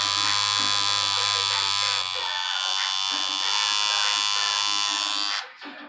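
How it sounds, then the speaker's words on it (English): A freshly assembled tattoo machine buzzes close and loud with a steady electric drone that holds for several seconds and then cuts off abruptly, with faint talking beneath. "That is how you assemble a tattoo machine."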